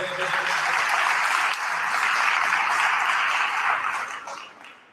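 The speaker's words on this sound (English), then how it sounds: "let's give FNB a round of applause and thank them" Audience at a business workshop in Gugulethu breaks into applause, a full, dense roar of many hands clapping that holds steady for several seconds before tapering off at the end, with no talk over it.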